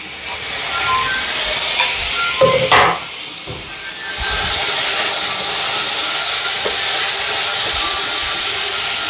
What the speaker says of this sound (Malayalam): ഇപ്പൊ സവാള ഒരുവിധം വഴങ്ങുന്നുണ്ടെങ്കിൽ നമുക്ക് ഇതിലേക്ക് തക്കാളി ഇട്ട് കൊടുക്കാം കേട്ടോ